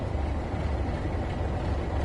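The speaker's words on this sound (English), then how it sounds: "You can hear the 47 over the top of the 37." Diesel engine of a Class 47 locomotive in the Train Sim World 3 video game on the Midland Main Line, a steady low rumbling drone with broadband hiss, running continuously without a break.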